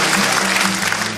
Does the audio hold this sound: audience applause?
yes